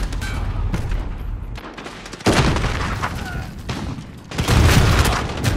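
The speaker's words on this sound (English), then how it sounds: "Just keep throwing grenades, bro." Grenade explosions and gunfire fill a small multiplayer map in Call of Duty: Modern Warfare, with loud booming blasts and constant dense battle noise.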